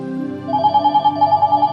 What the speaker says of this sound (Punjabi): ਦੀਦੀ ਦਾ ਫੋਨ ਆ ਗਿਆ